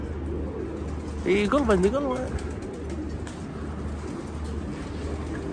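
A pigeon gives a short rolling coo up close, rising and falling, while someone speaks briefly over a low steady hum.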